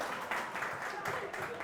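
Hand clapping during an economics lecture on India's trade and labour integration, a soft, fairly quick series of claps heard at moderate distance.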